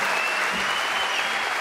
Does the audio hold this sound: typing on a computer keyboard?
no